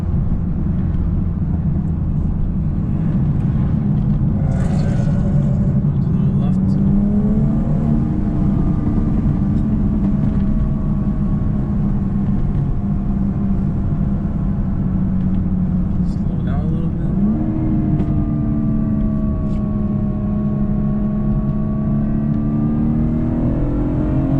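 BMW fitted with an M Performance exhaust accelerating after a downshift, deep engine drone climbing in pitch through the gears, loud and close from inside the cabin, with a voice talking over it.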